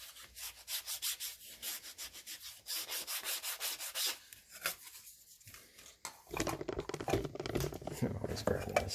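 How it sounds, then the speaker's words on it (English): Orbital sander smoothing resaw marks on a handmade wooden guitar body, a close, buzzing rub in pulsing strokes with brief pauses, louder near the end. "I'll take those 2 resaw marks out with the orbital sander."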